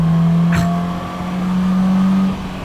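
Polaris Slingshot engine holding at high RPM with a steady, buzzing drone, a brief rising sweep early on, close and fairly loud, easing off near the end.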